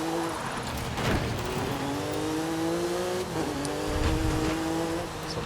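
In Forza Horizon 5, a Volkswagen Beetle (Vocho) drifts with its engine revving loudly in steady, rising pitch sweeps and a brief dip and lift of throttle, accompanied by tire noise, close and continuous.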